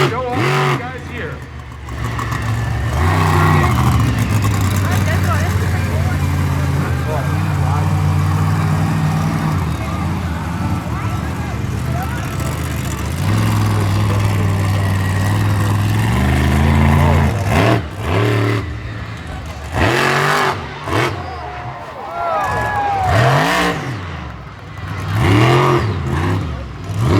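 Monster truck Brutus roars at Wiscasset Speedway, its engine revving loud and close in sustained bursts with low throbbing drones, rising and falling pulls later on, and crowd or announcer voices mixed in.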